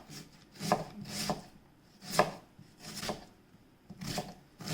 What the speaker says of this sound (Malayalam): സവാളയും ഒന്ന് കട്ട് ചെയ്യാം.